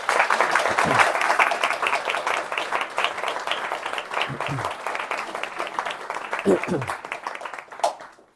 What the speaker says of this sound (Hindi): हम सभी मिलकर इनके परिवार को ताली बजाकर स्वागत करते हैं